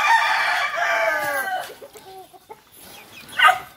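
Farm chickens and a rooster in a rural yard at feeding time: a loud, close crow followed by a string of clucks and squawks, fading to quieter scattered calls.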